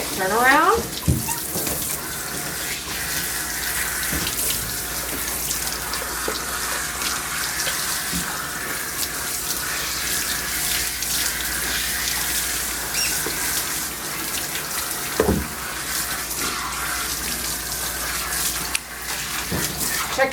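Water from a sprayer runs continuously while a dog is bathed at a grooming shop, a steady hiss with occasional splashes and bumps throughout.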